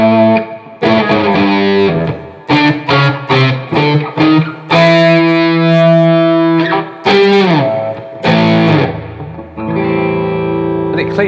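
Les Paul electric guitar played through its EMG bridge pickup, distorted, with choppy chords and single notes ringing out, a long sustained chord in the middle, loud and close.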